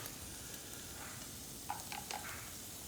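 Burger steak mixture sizzling in a pan while being gently stirred, a steady low frying hiss with a few soft scraping strokes near the end, fairly quiet and close.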